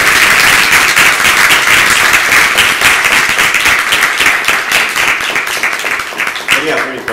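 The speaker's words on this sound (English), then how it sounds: "just a round of applause" Audience applause at a university neuroscience research expo, a steady, loud wash of many hands clapping that carries for about seven seconds before tapering off at the end.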